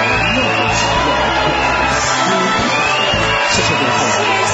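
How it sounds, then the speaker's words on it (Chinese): Studio audience applause and cheering for magician Liu Qian on a variety show, a loud, dense, sustained roar of clapping mixed with whoops that fills the whole stretch. "我们要用掌声感谢刘谦老师给我们带来了那么奇妙的"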